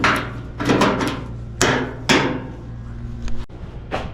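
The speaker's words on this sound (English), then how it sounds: "I really need to planish this weld." Hammer blows planish a weld on a patch panel in a rusty car door, several loud metallic strikes in an uneven rhythm, close and clear with no talking.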